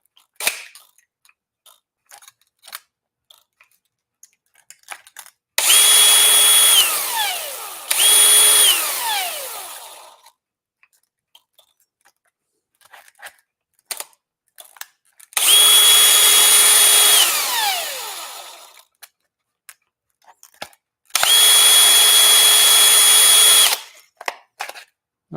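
A DeWalt power drill whirs in three sustained high-pitched bursts, the first briefly interrupted, with quiet gaps and small clicks between, loud and close.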